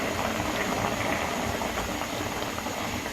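Dried plums (aloo bukhara) simmering in a covered pot of water for chutney: a steady, dense bubbling boil with soft low rumble, continuous and fairly close, with no talking.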